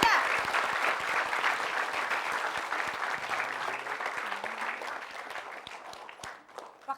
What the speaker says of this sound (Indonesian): Kita kasih tepuk tangan buat Ibunda tercinta.